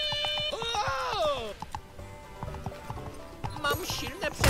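Horse hooves clip-clopping in a Wild West level of a SpongeBob video game, a steady rhythmic trot heard under game music and a voice talking.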